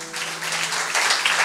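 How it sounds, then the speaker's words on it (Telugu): A congregation claps at a Telugu Sunday church service, with steady, dense applause filling the whole short moment at even loudness. "చప్పట్లు కొట్టండి."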